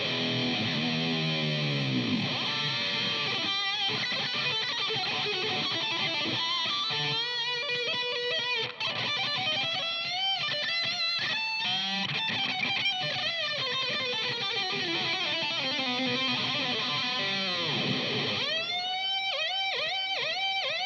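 Electric guitar played through a classic Marshall 100 power amp and a 1960 cabinet, distorted tone with chords and melodic lines, sustained bends and riffs, loud and continuous with no talking.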